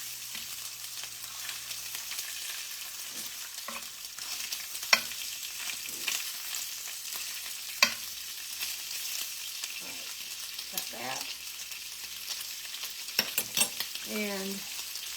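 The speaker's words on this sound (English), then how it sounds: "I love these hash browns. And I thought I would cook a few of those up this morning" Hash browns fry on a breakfast griddle with a steady, even sizzle throughout, and a few light scrapes and taps sound from a spatula while they are flipped.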